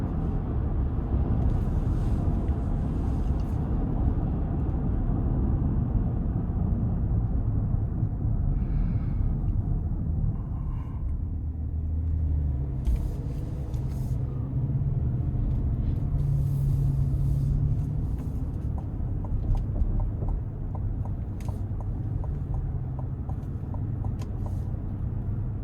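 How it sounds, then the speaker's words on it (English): Inside the cabin of a 2026 Chevy Suburban High Country with a 6.2 engine and 22-inch wheels cruising on an interstate, a steady low roar of tire and road rumble blends with soft wind hiss and continues without talk. "Wind noise, not bad. And honestly, the tires aren't as loud as you would expect for 22-inch wheels."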